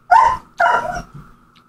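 A dog barks twice in quick succession, close and loud, followed by a softer third yip; no talking.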